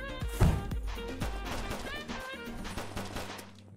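Rapid bursts of gunfire in the Zombie Soup video game, loud and close, with sharp repeated shots early and scattered cracks continuing alongside game music and effects.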